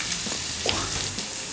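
Bacon sizzling and frying in a pan while being stirred, a steady close hiss with small scraping movements throughout, no voices.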